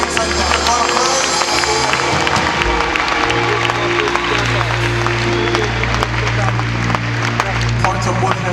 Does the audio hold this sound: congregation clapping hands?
yes